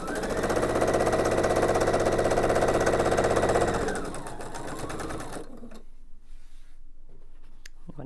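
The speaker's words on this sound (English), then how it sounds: "I'm now simply going to sew on the triangle to complete my setting half triangle blocks" A sewing machine runs a steady, fast stitching seam as a triangle is joined onto a setting half-triangle quilt block, stopping around four seconds in and leaving a quieter room hum with faint handling clicks.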